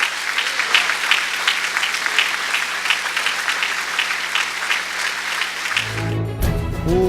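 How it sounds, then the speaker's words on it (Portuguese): A church congregation at a praise and worship service applauds with steady, sustained clapping that ends abruptly, followed by a short burst of other sound. "Despeça do amigo em casa aplaudindo a Jesus."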